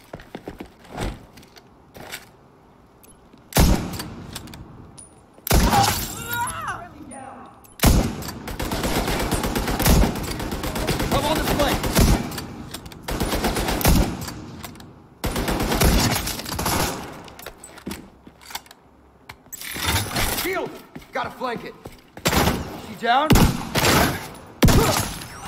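Rapid gunfire from a newly used gun in The Division 2, with dense bursts and sharp shots recurring in clusters across the clip, loud and close, interleaved with game effects and a few quieter gaps.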